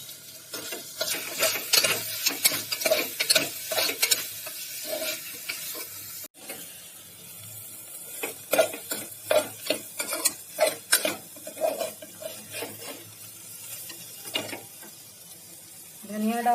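Chicken mince with yogurt and masala is stirred and fried in a pan. Repeated scraping and knocking spatula strokes come in uneven bursts over a low background sizzle, close and fairly clear.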